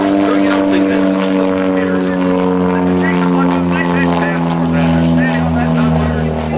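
An aerobatic propeller plane roars loudly overhead at an airshow, its engine drone steady and close, while a voice talks over it.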